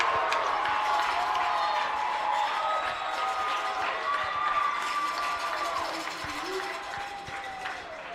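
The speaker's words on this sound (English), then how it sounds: "The crowd here at GCU Stadium going crazy for an Angel Lucero try" Stadium crowd at GCU Stadium roaring and cheering after a try in a college women's rugby playoff, a sustained loud wall of voices and whistles that slowly fades, with a commentator talking over it.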